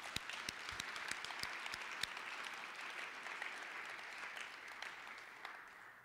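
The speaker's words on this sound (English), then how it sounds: "Let's give a round of applause." Audience applause at a spring concert, a steady wash of clapping with distinct sharp individual claps standing out, moderately distant and gradually thinning toward the end.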